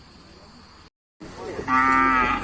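A crossbred cow moos loudly at a native cattle market in Nan, Thailand; after a brief gap in the sound a single long, drawn-out low call follows, close and prominent.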